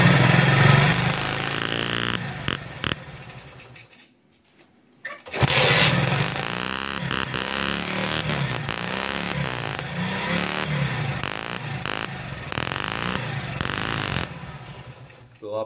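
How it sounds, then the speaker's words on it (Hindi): Motorcycle engine running loud and close on a bike being tested for ignition current, idling with a rough rhythmic note, cutting out briefly around four seconds, then firing back up and running steadily again. "बाइक को स्टार्ट करना पड़ेगा"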